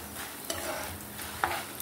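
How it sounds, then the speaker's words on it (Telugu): Half a spoon of asafoetida drops into a hot oil tempering of curry leaves for pulihora, bringing a soft sizzle and stirring scrapes, with two sharp clinks of the spoon against the pan. "ఇప్పుడు ఒక 1/2 స్పూన్ ఇంగువ వేసుకుందాం."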